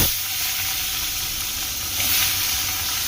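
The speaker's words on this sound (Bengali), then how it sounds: "কড়াইতে তেল গরম হয়ে গেছে, এবার মাছের মাথা ভেজে নেব।" Fish head frying in hot oil in a wok gives off a steady, close sizzle that swells briefly near the end, with no voices over it.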